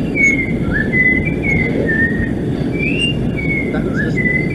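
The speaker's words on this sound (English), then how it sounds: "some of the Orioles have these, crazy whistled songs" A clear, loud yellow-backed oriole song of whistled notes, sliding and wavering, repeated in short phrases over a steady rumbling background.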